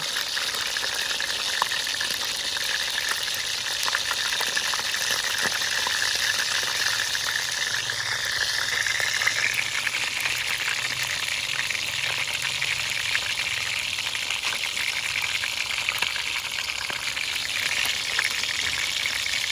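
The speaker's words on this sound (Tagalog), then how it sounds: "habang piniprito siya" Food fries in a pan with onions nearby in a provincial Pampanga kitchen, giving a continuous broadband sizzle that stays even and fairly loud throughout with no talking.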